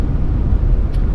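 A 2017 BMW 520d Efficient Dynamics Edition cruising on a highway at about 65 mph, a brief steady low road and engine rumble heard from inside the car.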